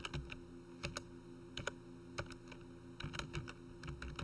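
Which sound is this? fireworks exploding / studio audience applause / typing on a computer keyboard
typing on a computer keyboard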